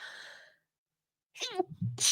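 A single person's sneeze, a short sharp burst of breath with a voiced tail, close and fairly loud after a brief moment of silence.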